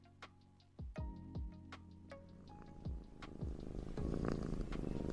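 A cat purrs with a low, continuous rumble, interrupted by scattered ticks and chime-like tones, and the sound grows louder and denser toward the end.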